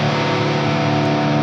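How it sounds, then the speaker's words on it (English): Guitar riff played through heavy distortion in Guitar Rig, a thick, dense sustained buzzing tone held loud and steady without pause. "I recorded the riff from the verses and intro just through a bunch of distortion"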